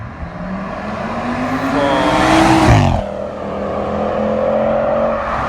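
A modified 715 BHP Audi RS6 Avant V10 accelerates hard, its engine note climbing loudly in pitch, dropping briefly at a gear change, then pulling again, heard from inside the car.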